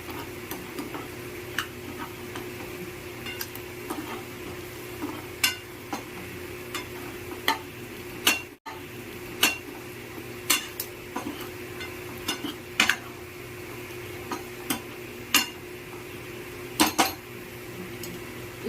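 Hyderabad-style prawn fry being stirred in a pan with a metal spoon, sharp scraping clicks and taps recurring irregularly over a low steady cooking hiss, with no talking.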